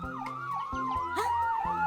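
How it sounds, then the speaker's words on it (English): A fire engine siren wails in loud, rising and falling sweeps close by, with a low electronic tone beneath and no talking. "Fire engine siren. I hope they speed by quickly."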